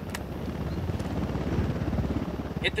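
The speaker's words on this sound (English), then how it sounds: "We got a chopper coming in." A helicopter approaches in the video game Ghost Recon Wildlands, a low, steady rotor rumble that stays fairly faint and distant beneath the game's ambient sound.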